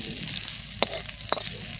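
Flat bean chops frying in hot oil, a steady close sizzle with two brief sharper crackles partway through, no voices.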